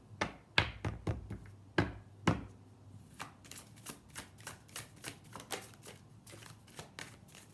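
Tarot cards being shuffled by hand: a few sharp slaps and riffles at first, then a steady run of soft, quick rhythmic taps, close and fairly quiet with no talking.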